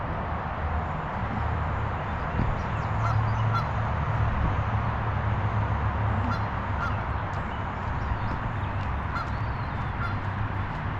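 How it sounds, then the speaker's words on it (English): Large birds keep up repeated honking calls beside the Schuylkill River, layered over a steady wash of outdoor background noise. "I guess they'll keep honking there for a while."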